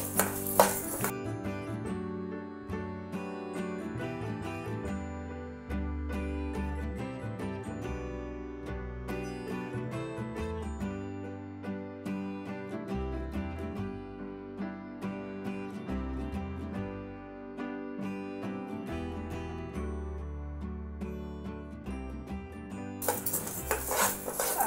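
Dry coconut roasts in a pan over a low flame while being stirred, with continuous scraping and clinking of the utensil against the pan under a dense, busy background, louder bursts at the start and end.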